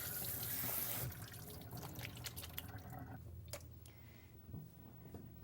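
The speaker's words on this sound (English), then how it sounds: "rinse them in cold water" Cold tap water running over drained potatoes in a kitchen sink, a steady rushing splash that cuts off after a second, followed by scattered drips and soft trickles nearby.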